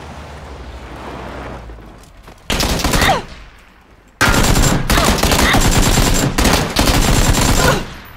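AK rifle fire in PUBG crackles in loud, rapid automatic bursts: a short burst, a pause, then a longer sustained volley broken by brief gaps, with no talk over it.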